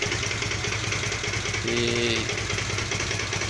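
A Kawasaki VN 800 Vulcan motorcycle with a strange noise idles at lowered revs inside a garage, its low, steady engine rumble carrying a constant rapid clattering tick, close by and alone, with a brief tonal whine rising midway.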